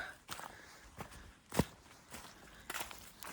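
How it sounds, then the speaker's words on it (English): Footsteps of a hiker stepping over rough rocks on the Appalachian Trail land in short, close-set thuds, with one sharper, louder step in the middle against quiet outdoor background. "My footsteps may sound just as fast, but they're very, very close together"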